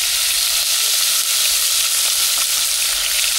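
Razor clams fry in a pan at a camp cookout in the Spanish Pyrenees, giving a steady, loud, dense sizzle with crackle and hiss throughout, with no break.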